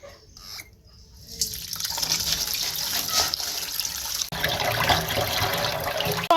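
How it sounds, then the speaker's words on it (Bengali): Water splashes and trickles as mangoes are washed by hand in a Bangladeshi village home, a close, continuous rushing with small sloshes and a brief break near the end. "আমি অল্প অল্প করে নিয়ে আমগুলো ধুয়ে নিচ্ছি।"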